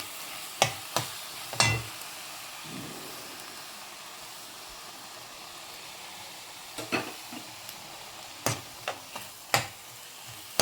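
Thick curd being stirred into avial in a pan, soft scraping and clicking of a spoon against the pan in short scattered strokes over a faint sizzling hiss.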